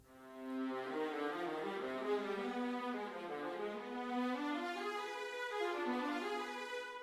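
Pacific Strings sampled string ensemble heard through close mics only, a sustained legato line of rich bowed notes shifting slowly in pitch, intimate and steady in level.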